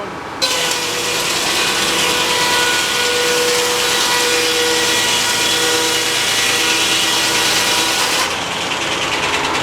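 A sawmill blade cuts lengthwise through a roughly one-inch board outdoors in snow, a loud steady rasping whine that holds for about eight seconds and then drops away near the end.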